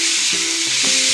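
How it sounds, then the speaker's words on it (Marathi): Finely chopped tomato added to a hot pan for boiled egg bhurji, giving a loud steady sizzle with brief stirring scrapes. "त्यानंतर टोमॅटो, बारीक चिरलेला टोमॅटो घालायचा"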